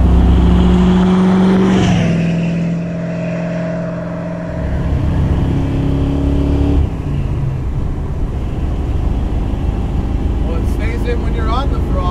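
1966 Dodge Coronet muscle car accelerating along a straightaway, a loud throaty engine rising in pitch then easing off into a steady rumble with road and wind noise, voices heard briefly at the start.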